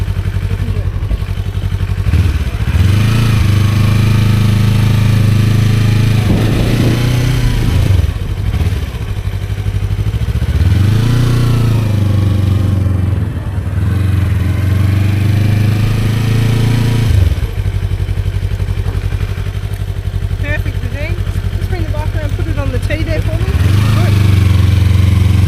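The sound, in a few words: motorcycle ridden through the riding skills test course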